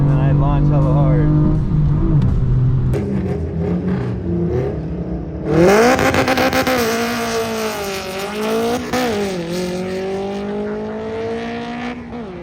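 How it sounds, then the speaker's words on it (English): A manual BMW M4 makes a hard launch at a drag strip. The engine revs with rising, stepped pitch through the gears while tires squeal, loud and close from inside the car, with a sharp surge in intensity partway through and a voice speaking over it. "I said I'm not gonna launch so hard, and then I launch hella hard."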